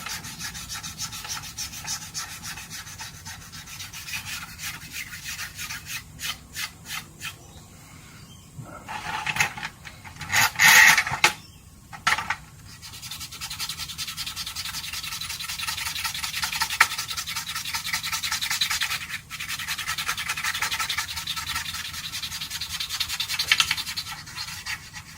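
Hand rubbing paint off a model aircraft, a Curtiss P-40E Flying Tiger: steady close scrubbing and sanding-like friction, continuous with brief louder bursts, no talking.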